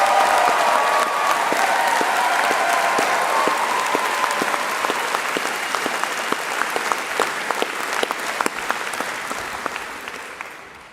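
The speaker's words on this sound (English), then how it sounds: "Please give them a round of applause" A graduation ceremony audience applauds conservatoire musicians: sustained, full-room clapping that starts dense and thins, with individual claps growing more distinct as it tapers off.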